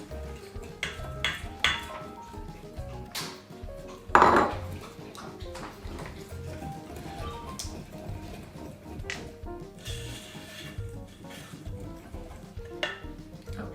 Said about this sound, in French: Mélangez jusqu'à obtenir une préparation homogène